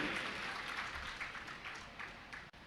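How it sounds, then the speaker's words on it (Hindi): Audience clapping during a Jain religious discourse in a large gathering, a sustained, dense ripple of many hands applauding that fades abruptly near the end. "जैसी तुमने ताली बजाई ना"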